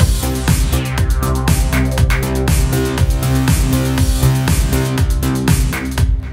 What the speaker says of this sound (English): I'm just going to drag one for now to the filter and just move it up and down.